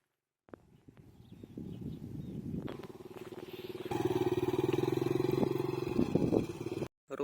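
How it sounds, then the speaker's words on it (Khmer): A villager's motorcycle approaches along an old road near an ancient bridge in rural Cambodia, its steady engine drone rising and growing louder as it nears, then cutting off abruptly. "បាទមានម៉ូតូអ្នកភូមិមកបាទចាំសួរគេសិនបាទ"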